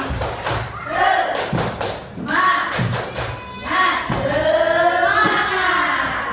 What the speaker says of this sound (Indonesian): Coba kita tepuk semangat dulu ya supaya tambah semangat ya.